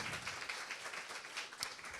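Audience applause at a live interview session, a steady wash of clapping from a crowd that holds at an even level for the whole stretch with no talking over it.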